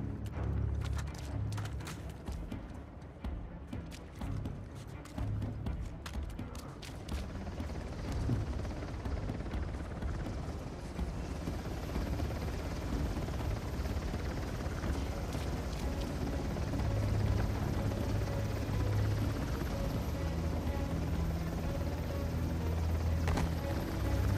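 A steady, low mechanical roar of a helicopter fills the scene, with a churning rotor rumble and scattered clicks early on, in the video game Uncharted: The Lost Legacy.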